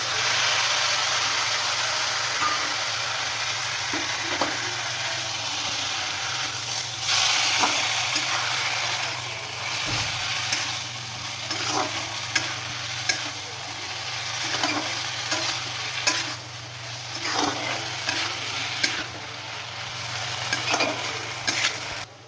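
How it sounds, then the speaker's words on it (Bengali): Spice paste with chilli powder sautéing in a pan for chana masala, a close, steady sizzle and hiss with frequent scraping and knocking of a spoon against the pan throughout, no voices. "এবার আমি মশলাটা দিয়ে দেবো কষানোর জন্য।"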